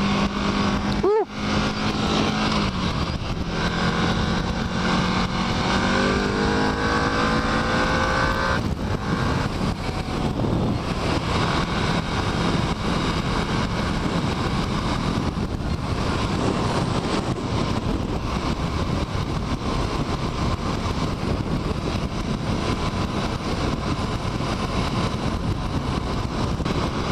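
An EBR 1190 RX sport motorcycle pulling hard in sixth gear at speed, a loud continuous engine roar mixed with heavy wind rush, with a brief rising whine early on and a steady drone throughout.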